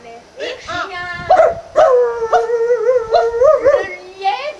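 A voice imitates a dog barking and yelping, a string of short pitched vocal barks and whines in quick bursts, close and loud in a theatre performance of a fable.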